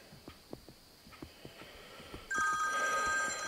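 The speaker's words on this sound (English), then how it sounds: "Phone ringing." A phone rings with a steady electronic tone partway through, entering abruptly and continuing over quiet outdoor ambience by the Altamaha River, preceded by scattered faint knocks and clicks.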